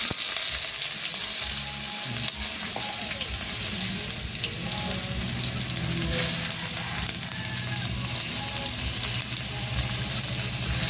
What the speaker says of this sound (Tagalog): Ayan, tapos lagyan natin mga lods yung ating hotdog.